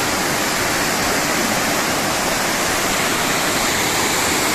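Loud, constant roar of a waterfall near Cherrapunji in Meghalaya, India, a dense rushing hiss of water filling the whole clip without pause or voices.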